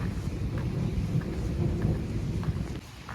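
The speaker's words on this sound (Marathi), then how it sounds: "हे बघू शकता, पाऊस चालू आहे." Heavy rain pours down in Pune in a dense, continuous hiss of drops, with deep thunder rumbling beneath throughout before easing slightly at the end.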